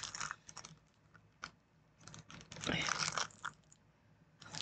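Toffee wrapped in plastic film crackles and crunches as it is broken, a close, irregular series of sharp snaps and crinkles with brief pauses between clusters.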